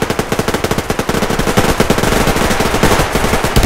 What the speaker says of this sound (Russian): У меня стреляют.